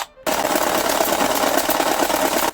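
A Kriss Vector electric airsoft gun fires one sustained full-auto burst of rapid mechanical clatter after a brief silence, loud and close, lasting over two seconds.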